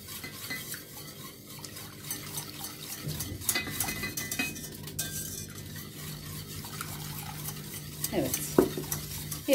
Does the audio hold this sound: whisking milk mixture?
yes